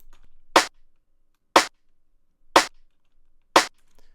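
Electronic house drum pattern with a rimshot and a clap landing on the offbeat, four sharp bright hits evenly spaced about a second apart, loud and dry with near silence between them.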